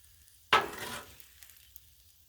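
Eggs for shrimp fried rice hit a hot Blackstone griddle with a sudden loud sizzle that fades over about half a second into a faint crackle, with no voices.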